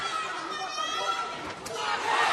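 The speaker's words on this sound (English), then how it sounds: "McGregor's also got a packed hall here in Dublin, right behind him, cheering on every single one of his movements" A packed hall crowd in Dublin roars and chatters for Conor McGregor during his 2016 fight against Ivan Buchinger, a broad, constant crowd din with a commentator's voice over it.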